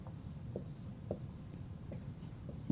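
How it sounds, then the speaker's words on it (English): Marker writing on a classroom board, with soft scratchy strokes coming in short bursts at an irregular pace, quiet and close, with faint room noise behind. "I'll write up on the board."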